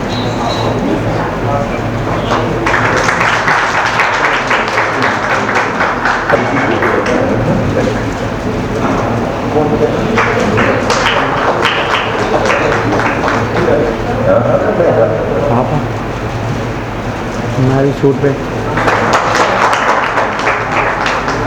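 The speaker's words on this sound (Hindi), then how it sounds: "आप सभी जोरदार तालियों के साथ बार बार तालियां बजती रहनी चाहिए।" Applause rises at a teachers' day honouring ceremony, scattered clapping swelling in waves from a seated audience beneath continuous talk over a loudspeaker.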